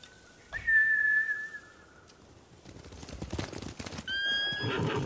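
Samurai horses in the Ghost of Tsushima video game give a loud, close whinny, then hooves clatter in a rough gallop that ends in another sharp neigh, with no talk.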